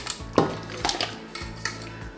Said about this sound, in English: In a large pot, we will add our chicken thighs